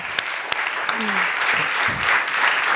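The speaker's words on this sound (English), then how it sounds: "Round of applause for these guys." Steady applause from an audience, a dense patter of clapping with a few sharper claps standing out, filling the whole moment without speech.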